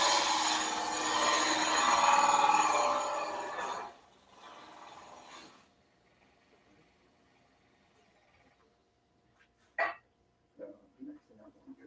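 Woodturning gouge cutting into a wooden bowl spinning on a lathe, giving a loud, rough, continuous shaving roar for about four seconds before it stops, followed by quiet room tone and a few faint knocks.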